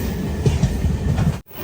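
An express train running from Kochuveli to Rishikesh gives a steady, loud rumble of wheels and carriages, cut by a brief sharp dropout near the end before the rolling noise resumes.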